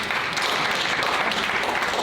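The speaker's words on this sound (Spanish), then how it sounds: "Un aplauso." A church congregation at a Bible study class applauds, with a broad, dense wash of clapping that holds steady for the whole two seconds, fairly close and with no talk over it.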